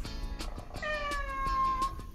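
A cat gives a single drawn-out meow during a child's pretend vet play. The meow is close and clear, with faint tapping underneath.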